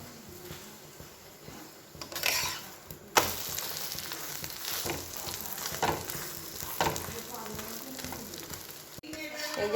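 An egg roll roti sizzles and fries steadily in a pan, with sharper spitting bursts at intervals and occasional scraping or stirring, close and moderately loud throughout.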